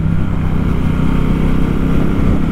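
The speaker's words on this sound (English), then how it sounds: "just listen to those beautiful pipes on here." Exhaust of a 2022 Triumph Speedmaster motorcycle on the move, a steady deep loud rumble with a throbbing low pulse, close and continuous without talk.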